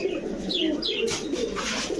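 Giribaz high-flyer pigeons coo softly in a loose group at close range, with overlapping rolling calls and a few brighter chirps over a steady background hum.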